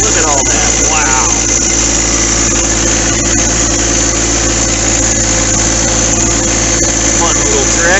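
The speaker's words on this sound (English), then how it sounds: "Fun little tractor. Gets me around my property." A new John Deere 4x4 tractor engine runs loud and steady at close range, holding an even mid-pitched drone throughout, with faint talking under it.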